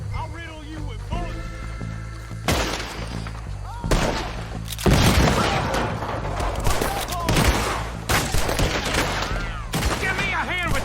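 Dense gunfire from a shootout in Red Dead Redemption 2: repeated sharp bursts and overlapping shots crack loudly, close and distant, with shouted voices mixed into the chaos.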